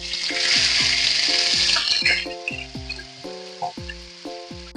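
Dried anchovies hit hot oil in a pan and sizzle loudly, the hiss strongest at first and then easing into softer crackling, with a tonal musical pattern playing underneath.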